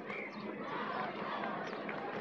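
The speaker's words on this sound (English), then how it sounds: "Big crowd building." A large football crowd roars at the MCG during a 1986 VFL match between Melbourne and Geelong. The swelling, distant-sounding crowd noise rises briefly and carries on without commentary.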